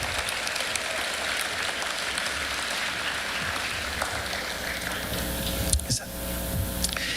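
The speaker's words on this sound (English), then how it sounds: "Please give them a well-deserved round of applause for all of their efforts" A large crowd at a high school graduation ceremony applauds, a broad, steady hiss of many hands clapping at a distance, continuous and fairly quiet, with a few louder claps near the end.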